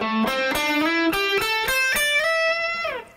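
Electric guitar plays a blues lick in the minor pentatonic scale, moving from the low end of the neck up to the high end, with clear picked notes, bends and slides ringing out alone for about three seconds.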